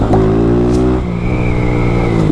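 A Honda Fan 160 motorcycle fitted with a Dore exhaust revs loud and close, its steady engine drone rising in pitch partway through and holding high until the end.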